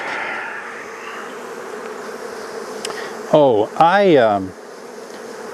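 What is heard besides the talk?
honey bees buzzing on a hive frame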